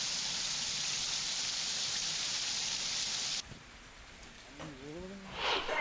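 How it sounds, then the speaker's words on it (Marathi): Heavy rain pours over Nanded city in Maharashtra as a steady, close hiss for several seconds, then the sound drops abruptly to a quieter background with faint murmuring near the end. "नांदेड शहरामध्ये आज पहाटेपासून मुसळधार पाऊस झाला"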